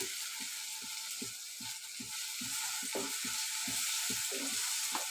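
Onion and tomato sautéing in a pan for a crab gravy, a quiet hiss of frying under a regular series of spatula scrapes and taps, about two per second, close by.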